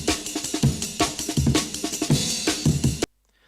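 A chopped drum break sample, repitched to fit two bars of jungle tempo, rattles out fast syncopated kicks, snares and hi-hats loud and alone, then cuts to silence.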